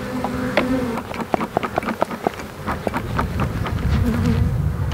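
Honeybees drone in a hive with the queen inside, a dense close buzzing hum broken by scattered sharp ticks and taps from movement around the box.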